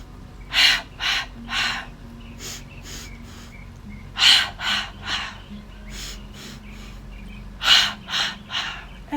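Sharp sniffing breaths through the nose during Pilates arm pumps, in three evenly spaced clusters of quick, fairly loud inhales heard close up, with no talking.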